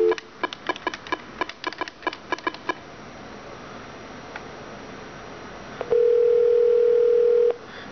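An Emetrotel UCX M7310 desk telephone dials out with a quick run of about a dozen clear keypad tones, then, after a short quiet pause, a steady continuous tone sounds for under two seconds, close and clean.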